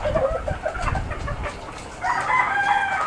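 Pet chickens kept on a small rooftop coop cluck and call, with a rooster's crow rising near the end, fairly close and moderately loud.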